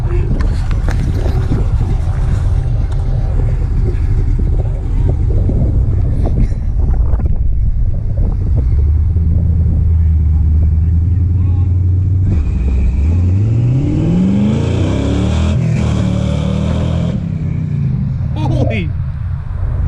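At a car meet, a car accelerates hard with wheel hop, its engine rising in pitch through a loud revving climb over heavy wind noise and crowd chatter, with people talking throughout.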